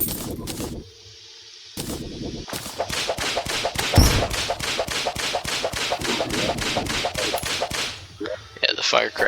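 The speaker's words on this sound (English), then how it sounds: "Whips are just so loud." Rapid repeated whip cracks in Terraria, sharp and loud, firing in a fast regular rhythm after a brief pause at the start.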